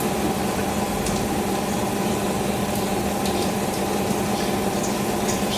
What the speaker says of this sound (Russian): Так, сливаю воду.